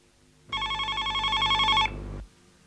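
An office telephone rings in a hospital ward, a loud warbling electronic bell burst lasting over a second, ending in a steady hum before falling quiet.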